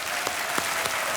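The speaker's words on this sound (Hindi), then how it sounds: "तो तालियों के साथ एक बार फिर उनका स्वागत हो जाए।" A studio audience on a television quiz show claps to welcome contestants, a brief, dense burst of continuous applause filling the room.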